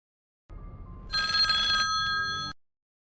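A telephone bell rings in a continuous electronic trill for about two seconds, clear and fairly close, with no voices over it.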